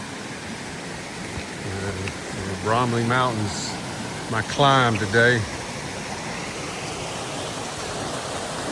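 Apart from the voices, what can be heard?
mountain brook flowing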